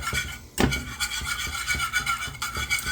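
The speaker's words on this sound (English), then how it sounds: "we're going to basically whisk out all the lumps" A whisk rubs and scrapes rhythmically in a pot as milk is whisked to smooth out lumps, producing close, repeated strokes with one sharp knock, and no talk.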